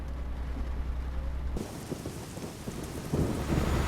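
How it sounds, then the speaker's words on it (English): Rain and thunder in the Euro Truck Simulator 2 driving game: a steady hiss of heavy rain on the truck, then a deep rolling thunder rumble swells in halfway through and keeps growling under the downpour. "Oh yeah, a bit of thunder."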